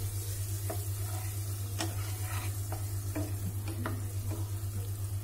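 Eggs sautéing in oil in a pan for an egg gravy, a steady close sizzle with occasional soft scrapes and stirring clicks over a constant low hum.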